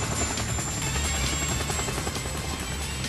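Steady, loud thudding of a helicopter's rotor over a continuous engine roar, constant throughout with no voices.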